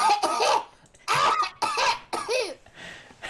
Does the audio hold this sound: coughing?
yes